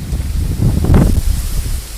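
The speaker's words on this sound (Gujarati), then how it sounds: "પવન બહુ છે" Strong wind gusts outdoors by farm fields, buffeting the microphone as a loud, continuous low roar that swells and eases without any talk.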